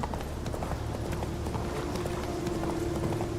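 Video-game horse Roach galloping, a quick steady clip-clop of hooves with a faint tonal hum underneath.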